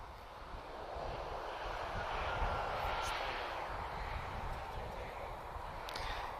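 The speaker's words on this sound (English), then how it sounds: "A320 SATA is going to be on the ground first time." A SATA Airbus A320 airliner at Lisbon Airport produces a steady, broad jet roar, moderately distant and fairly faint, holding level throughout with slight swells.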